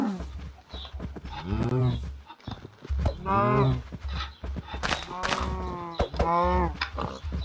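A cow in a video game moos several times in long, drawn-out calls, loud and close, with little else around it.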